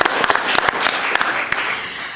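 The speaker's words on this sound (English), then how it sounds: "let's give them a round of applause" Audience at a university event applauding, dense clapping with distinct sharp claps standing out, fairly loud and continuous throughout.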